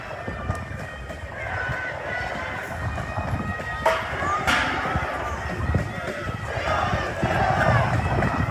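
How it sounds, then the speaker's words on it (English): Protest crowd on Capitol Hill in Seattle chants in unison about Breonna Taylor, a rhythmic roar of many voices over street noise, rising and falling with sharp shouts and whistles. "We hear the crowd chanting, say her name, Breonna Taylor."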